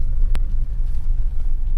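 A Mahindra Bolero SUV's engine rumbles low and steady as it pulls in second gear, with a brief sharp click near the start and no talk over it.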